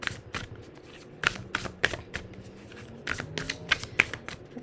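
Tarot cards are shuffled by hand in quick irregular bursts of crisp riffles and slaps, close and fairly quiet, with brief pauses between.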